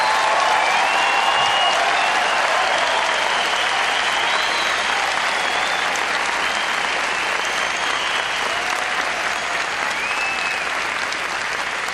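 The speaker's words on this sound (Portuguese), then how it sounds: "Eu gostaria que você desse um aplauso ao Senhor pela vida do pastor Fadi." A church congregation claps during a Pentecostal service, with sustained, full applause filling the room for the whole twelve seconds, faint whistles or cries rising above it, and no speech on top.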